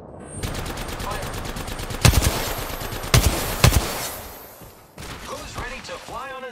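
Automatic weapon fire in the Apex Legends shooter game, rapid bursts of shots with a few heavier booming impacts, close and loud, with a character voice speaking briefly near the end.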